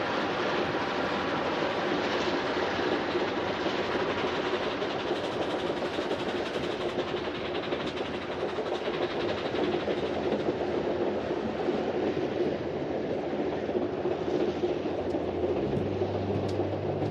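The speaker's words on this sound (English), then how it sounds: "Here we see trains arcing their way towards South San Francisco." Southern Pacific trains roll along the line near South San Francisco, a steady, moderately loud rumble of wheels and cars with faint rhythmic clatter, sustained without a break and with no voices.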